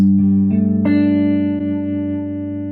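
Electric guitar strums a sus2 chord, its notes entering one after another and ringing out together with a sustained, slightly effected tone.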